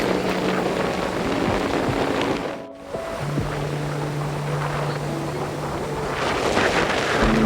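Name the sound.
sea waves and strong wind at Mandarmani beach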